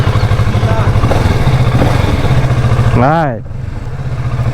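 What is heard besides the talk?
old motorcycle engine running during a ride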